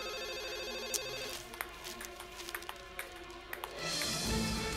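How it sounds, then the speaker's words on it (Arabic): A telephone rings faintly in an indoor scene, with a repeating bell tone under light tapping and background noise. "قوم رد على التليفون"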